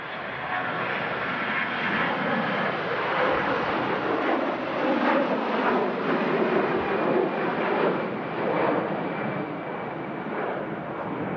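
A Jet2 Airbus A321 airliner at Manchester Airport on a windy day produces a continuous broad roar of engine noise that holds steady and loud for the whole stretch.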